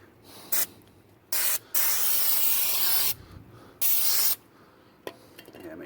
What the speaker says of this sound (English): I'm just gonna spray it real quick just to make it clean.